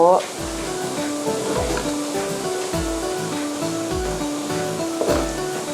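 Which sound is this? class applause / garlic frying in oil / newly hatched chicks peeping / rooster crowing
garlic frying in oil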